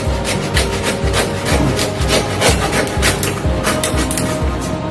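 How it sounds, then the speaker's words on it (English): A blunt hand saw cuts through half a pig carcass, giving fast, regular back-and-forth rasping strokes that are close and continuous, with no talking. "we've got a saw that's not cooperating because it's not sharp enough"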